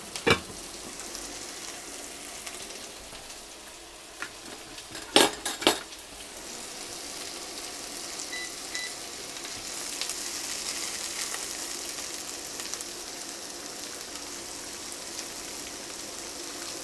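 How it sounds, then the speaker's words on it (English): Onions soften in a pan for a minced beef pie, giving a steady close sizzle and crackle throughout. A few clinks of a utensil against the pan come near the start and middle, and no one talks. "And as those onions are softening, as I said, I'm going to put my garlic in as well."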